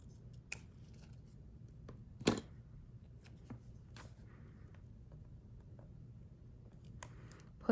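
Scissors cutting a page from a 2025 Aura Estelle B6 daily planner, with a few quiet isolated snips and one sharper cut in the middle of an otherwise hushed room.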